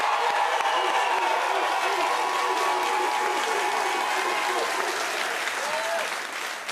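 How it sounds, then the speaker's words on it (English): A studio audience at a late-night comedy show applauds for the Navy and Coast Guard during Fleet Week, a loud, sustained wall of clapping with some crowd noise that holds steady and tapers slightly at the end. "How about a special round of applause for the Navy and Coast Guard?"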